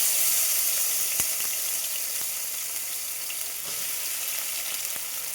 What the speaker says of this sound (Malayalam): മൂന്നാല് പച്ചമുളക്, കുറച്ച് കരിവേപ്പില, ഇതെല്ലാം കൂടെ നമ്മൾ ചെറുതായിട്ടൊന്ന് വറുത്തിയെടുക്കണം.